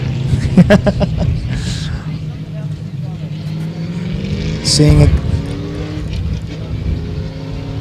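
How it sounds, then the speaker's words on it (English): A Pontiac GTO race car engine roars steadily nearby on a hot pit lane at a 2012 New Jersey time attack event, with a deep rumble and a rising whine, while someone talks over it briefly. "I believe that's the GTO that I'm hearing on the hot pit lane."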